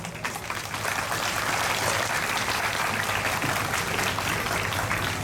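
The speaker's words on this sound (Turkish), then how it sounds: "Lütfen millet olarak kendinizi şöyle kuvvetli bir alkışlarsanız" Sustained, dense applause from an audience at a 15 July memorial and remembrance ceremony in Şile, loud and steady throughout with no talk over it.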